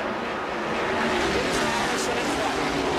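Stock cars roar past in a dense, continuous rush of engine noise at the 1981 Daytona 500 on a rain-soaked track, with no clear speech over it.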